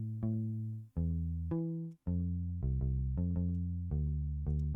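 A synth bass line in a home-made hype-drop beat steps through a run of deep sustained notes, most of them held, with two brief gaps and a quicker pulse of repeated notes near the end, loud and alone.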